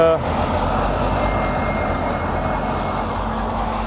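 A bus engine drones steadily and loudly, a constant low rumble filling the whole stretch.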